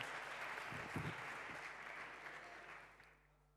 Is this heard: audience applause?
yes